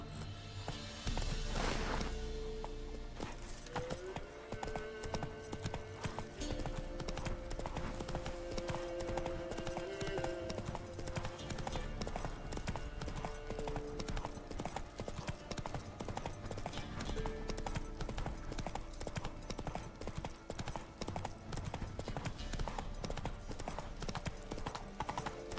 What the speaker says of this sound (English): Run, Roach. Turn around, man